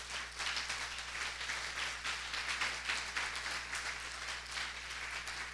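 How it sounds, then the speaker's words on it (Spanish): A church congregation claps steadily during a service, a continuous wash of applause over a low electrical hum. "Denle un aplauso"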